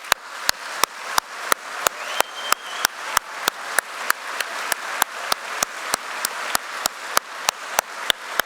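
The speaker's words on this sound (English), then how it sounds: "give yourselves a huge round of applause for your outstanding" Sustained applause from a crowd of graduates and guests at a university graduation ceremony, with regular sharp claps pulsing steadily over a dense wash of clapping, fairly loud and continuous with no talk.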